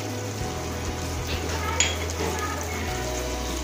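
Garlic-ginger paste fries in melted butter in a pan, giving a steady, close sizzle with a brief sharper crackle near the middle.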